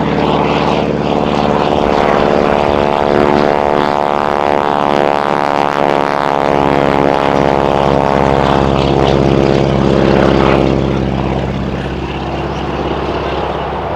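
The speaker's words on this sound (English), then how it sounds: "Now, Joe is going to lower himself under the wing and hang down by his feet." A propeller airplane flies overhead at the Flying Circus Airshow with a wing walker on the wing. Its engine drones loud and close, steady for the whole stretch, easing slightly near the end.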